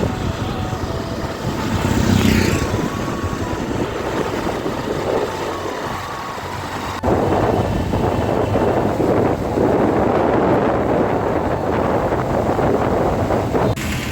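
A motorbike ridden along a road on a day-off trip home, with heavy wind buffeting the microphone throughout, a steady broadband roar that drops briefly and then returns louder for the rest of the ride.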